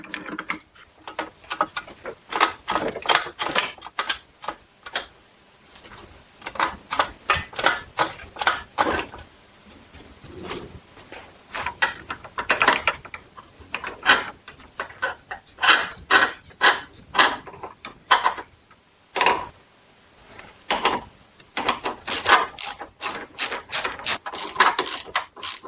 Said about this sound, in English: just tighten both of these bolts.